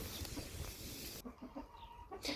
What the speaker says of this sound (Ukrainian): Ось курочка. Деяка навіть зараз несеться.